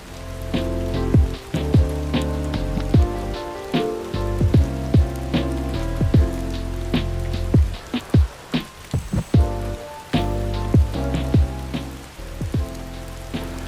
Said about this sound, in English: Oh my gosh, why are they playing in the rain?